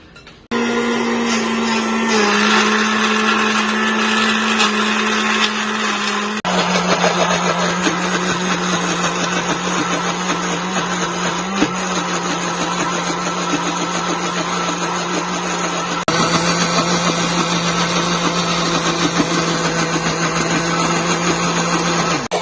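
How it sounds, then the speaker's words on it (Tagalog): A blender whirs steadily and loudly for over twenty seconds, blending basil and garlic for pesto, its motor pitch shifting slightly as the load changes. "i-blender po natin itong basil"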